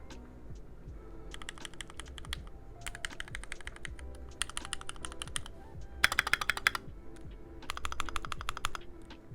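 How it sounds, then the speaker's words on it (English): Typing on a Keychron Q2 mechanical keyboard with Gateron G Pro brown switches, steady bursts of soft, muted keystrokes pausing briefly between runs; close and clear with no talking. "Keychron Q2 QMK mechanical keyboard with Gateron G Pro brown switches"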